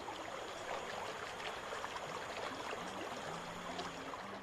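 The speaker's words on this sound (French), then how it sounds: "Rapides et cataractes sont fréquents en Guyane." Steady roar of rapids and cascades on a river in French Guiana, a constant broadband rush of water, moderately loud with no voices.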